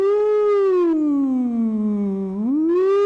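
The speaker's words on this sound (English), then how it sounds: "that's the sound of the fun police turning up" A single wailing siren-like tone that sinks slowly in pitch, then swoops back up, loud and close with no talking.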